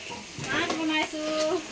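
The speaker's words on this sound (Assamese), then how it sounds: "ইফালে আমাৰ দাদাই পুৰা জ্বলা ভাজি বনাই আছে" Jhola bhaji being stir-fried in a pan at a busy home kitchen during a birthday cooking session, a soft scraping and sizzling that runs through the short stretch at low level, with faint voices in the background.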